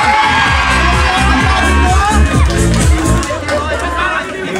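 Pageant crowd at the Queen of the Highlands event cheering and shouting loudly and continuously, a dense roar of voices with high-pitched screams throughout.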